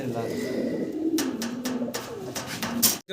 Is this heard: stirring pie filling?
no